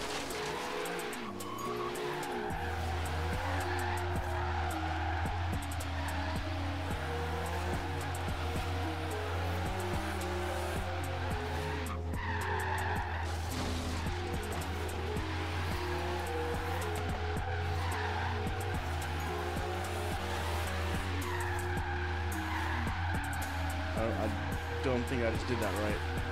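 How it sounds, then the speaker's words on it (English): A stock-tired Toyota AE86 drifts in Forza Horizon 3, a steady engine drone with tires squealing and sliding through long stretches, continuous and fairly loud, while someone talks over it throughout. "stock tires slide out like crazy"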